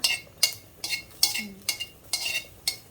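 Chilies, garlic and shallots dry-roasting in a pan, heard as a series of sharp scraping stirs and light metallic clinks repeating roughly every half second, close and fairly quiet, with no talking.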